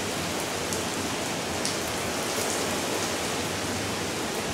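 A heavy summer downpour drums steadily on garden surfaces, a dense unbroken wash of rain with scattered sharper drips and no voices.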